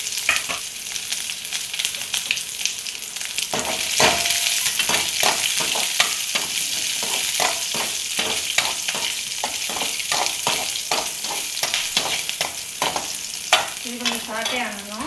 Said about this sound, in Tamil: கொஞ்சம் கருவேப்பிலை, அதன் பின் நல்ல சின்ன உள்ளி இதை போட்டு நல்லா சாட்டே பண்ணணும்.